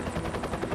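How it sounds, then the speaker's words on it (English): A rescue helicopter flies over rainforest, its rotor blades thumping in a fast, steady, loud pulse throughout the brief moment, with no talking. "Helicopter's still one of my favourite sounds."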